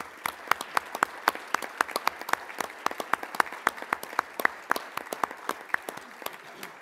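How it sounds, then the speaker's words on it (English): A modest audience at a Western Governors' gathering gives a round of applause. The sharp individual claps are fairly sparse and quiet and carry on for several seconds. "let's give the WGA team a round of applause as well"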